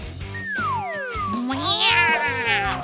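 A cat meows several times in quick succession, with loud, drawn-out, sliding cries over a soft rhythmic backing.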